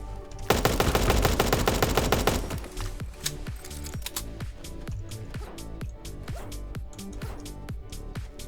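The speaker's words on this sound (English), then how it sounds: "Barrel launcher, minigun." A minigun firing in a video game, a dense, loud continuous roar for about two seconds, then slowing into a rhythmic series of separate heavy shots.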